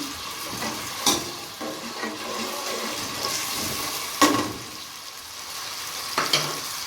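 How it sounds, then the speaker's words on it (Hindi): Finely crushed garlic frying in oil for a spinach curry, a close, steady bubbling sizzle with a few sharper clinks and scrapes of stirring at intervals. "लहसुन डाल दिया। हल्का सा ब्राउन होने दें।"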